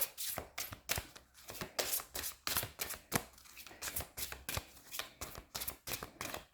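Oracle cards being shuffled by hand, rapid repeated riffling bursts in an irregular rhythm, close and fairly quiet, with no speech.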